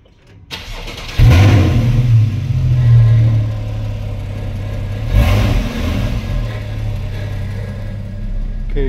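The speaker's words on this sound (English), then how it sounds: "So we're gonna have no sport exhaust, but I'm just gonna start it up" A Porsche 991 Carrera S with the standard exhaust, sport exhaust off, cranks and fires up after a moment of quiet, settling into a loud, steady idle with a blip of revs around the middle and no talk over it.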